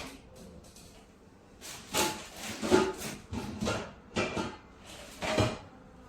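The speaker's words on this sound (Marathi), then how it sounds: "त्याच्यामुळे पॅन काढते." A large Bergner dosa pan taken out in a home kitchen, a series of hollow knocks, clatters and scraping metal and wood bumps at close range, irregularly spaced and fairly quiet.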